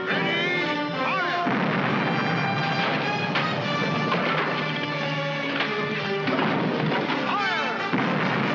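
Ship cannons fire in a 1952 pirate film battle, a series of heavy booming blasts and crashes spread through the stretch, loud and dense, mixed with score music and shouting.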